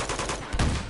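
Rapid automatic gunfire from the Uncharted 2: Among Thieves video game, a dense burst of loud overlapping shots lasting under a second with a heavier low thump midway.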